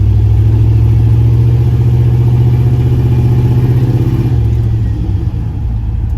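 A turbocharged LS-swapped Caravan van rolls along a potholed street, its engine a steady low droning rumble with road noise, loud and continuous from inside the cabin.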